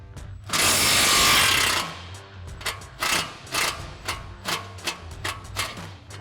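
Impact wrench with a 19 mm socket removing a front shock mounting bolt on a 2015-2020 Ford F-150, one loud sustained hammering burst followed by a series of short rattling ratchet clicks.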